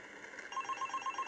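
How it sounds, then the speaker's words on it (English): A telephone rings in a quiet room, a repeated electronic ringing tone that starts partway through and pulses steadily several times, fairly close and alone. "Then the phone rang"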